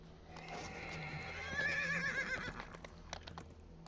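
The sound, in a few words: horse neighing in a video game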